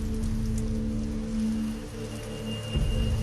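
Steady rain falls outside as a dense, even hiss, fairly loud and continuous, with a faint low hum underneath.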